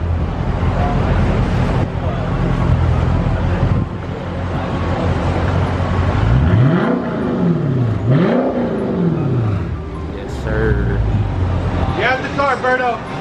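A 2021 Dodge Challenger Scat Pack with its mid muffler deleted revs loudly up close, two sharp rising-and-falling blips followed by a quick burst of throttle, over a steady rumbling idle with wind noise.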